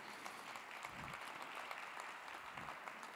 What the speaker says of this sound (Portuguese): Vamos recebê-la, senhoras e senhores,